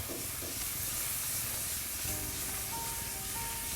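Asparagus sizzles in butter in a frying pan, a dense, continuous hiss close up and steady throughout, with faint tonal ringing appearing partway through.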